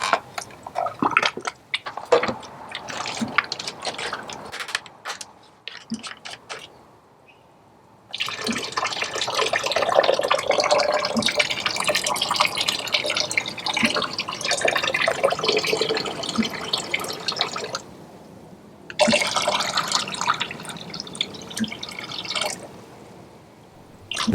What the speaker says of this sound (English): The sound of muriatic acid being poured into water makes me have to pee.